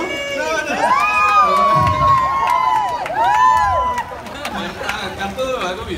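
Family members shout and cheer in the background, a noisy mix of raised voices and excited cries, with people talking over the commotion.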